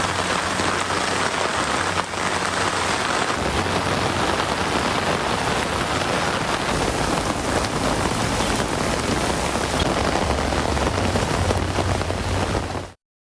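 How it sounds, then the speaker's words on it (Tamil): Heavy rain pours steadily and loudly across villages in Tamil Nadu, a dense continuous hiss lasting throughout with no voices; any thunder is not distinctly evident beneath the downpour. "இடி மின்னலுடன் கூடிய பலத்த மழை பெய்தது"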